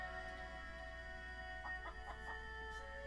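A chicken in Tales of Xillia gives a few short, soft clucks over a quiet background hum, faint and brief.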